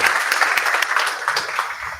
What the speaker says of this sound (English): Can we please give a very big warm round of applause to Chris over there?